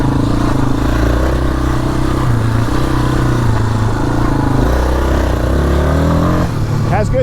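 A Yamaha Warrior ATV engine runs loud and steady on a dirt trail, a continuous throaty drone that shifts pitch as the rider works the throttle, with a brief clatter near the end.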